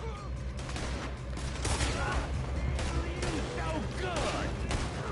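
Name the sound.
gunfire in a shootout in the video game Red Dead Redemption 2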